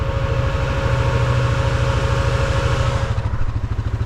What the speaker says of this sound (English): Let's just sit here till we see if the fan shuts off.